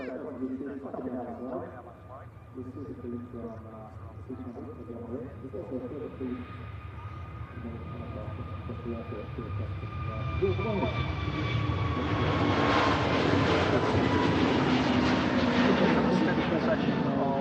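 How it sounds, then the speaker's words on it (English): Jet2 airliner departing Manchester Airport for Antalya, a distant jet engine whine that builds into a loud, broad roar over the second half, with someone talking over the early part. "But first, this Jet 2 out to Antalya."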